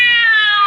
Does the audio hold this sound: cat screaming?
yes